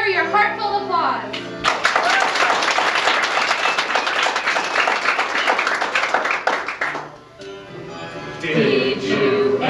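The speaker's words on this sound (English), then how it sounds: "So let me hear your heartfelt applause." Audience at a stage play of Curses, Foiled Again! breaks into loud, dense applause for about six seconds, starting abruptly after speech and fading as a voice resumes talking.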